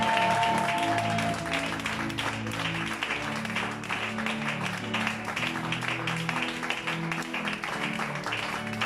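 A church congregation claps and cheers during worship, a dense, continuous wash of applause with voices and music mixed underneath throughout.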